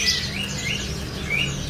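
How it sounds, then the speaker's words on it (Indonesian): A tepus lurik, a striped babbler, calls at a bird market with several high, thin whistled chirps spaced out over a low background hum. "ini ada burung tepus lurik ya"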